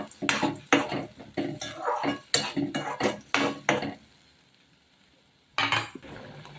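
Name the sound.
sautéing ginger, garlic, coriander, chili paste in pan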